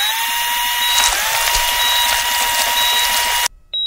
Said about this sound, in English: Now use the drill to shape a mold in the skull where the receiver simulator will be placed.